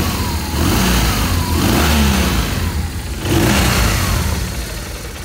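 A BMW R1200RT motorcycle with about 35,531 miles and light scuffs on the engine casing revs up loudly and close by, the engine rising and falling in two strong bursts over a steady idle.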